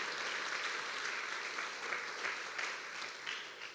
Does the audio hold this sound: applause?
yes